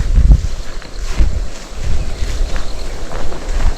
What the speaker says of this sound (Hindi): ये पाइन ट्रीज जो है ना, इसके पत्तों की आवाज़ सुने जो हवा से वो जो एक साउंड क्रिएट होती है